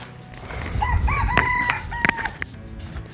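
A rooster crows loudly and close by on a farm near Phan Thiet, Vietnam, a single rising-and-falling call over a low outdoor rumble, with a sharp clack near the end.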